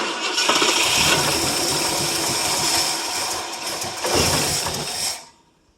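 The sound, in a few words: 1967 Ford LTD 390 FE engine cranking on cold start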